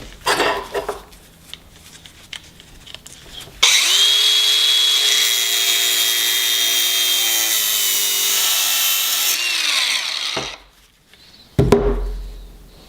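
A power tool cuts through a rubber-lined turbo oil drain line from a BMW 335i N54, a loud steady whine holding for about seven seconds between quieter clattering handling noises before and after.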